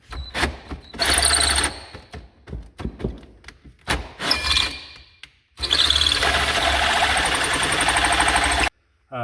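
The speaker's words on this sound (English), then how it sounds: "I've located where I'm drilling the hole, and we're going to drill." An electric drill bores a hole into a wooden fireplace mantle, with loud, steady whirring bursts broken up by short knocks and handling sounds, then one long sustained run of drilling close by.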